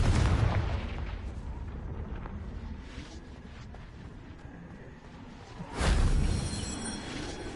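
A Confringo fire spell bursting in Hogwarts Legacy, a deep rumbling blast that fades into a low roar, then a second loud boom near the end, alone with no voice.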